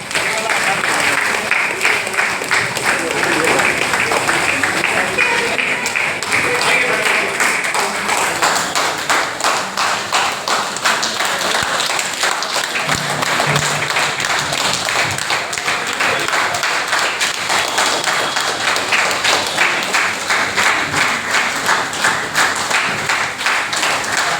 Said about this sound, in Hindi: पीछे से अगर ताली की बजते रहेगा तो बहुत मजा आएगा।